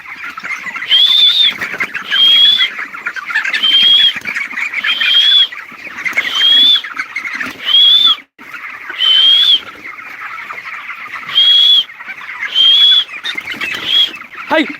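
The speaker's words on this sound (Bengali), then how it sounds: "আমি এখন এই পোলট্রি ঘরে কাজ করতে এসেছি তো কি মুরগিগুলো কী করছে" Chickens in a poultry house give loud, repeated squawking calls in regular bursts, close and continuous with short pauses between.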